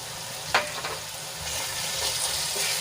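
Onion sautéing with chili-ginger paste and green garlic in a pan for a green chickpea and paneer curry, a steady soft sizzle with a sharp spoon scrape near the start and a few lighter stirs, no voices.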